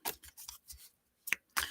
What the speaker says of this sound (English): what you don't see me doing is I'm shuffling